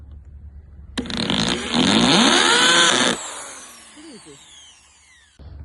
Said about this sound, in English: So I'm starting drilling the screws.